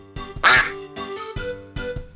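A cartoon duck quacks loudly several times in a row, with a bright, raspy call standing out near the middle among shorter clipped quacks, heard alone without talk.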